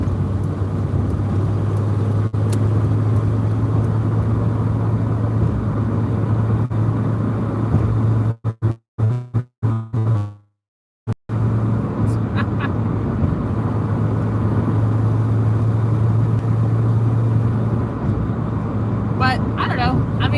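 A 1981 Ford Mustang cruising on the road, its engine a steady low drone under continuous road noise, briefly broken by a dropout midway before the drone resumes, with a person talking over it.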